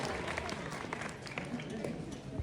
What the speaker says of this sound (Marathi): गांधी चौक साठी जोरदार टाळ्या झाल्या पाहिजे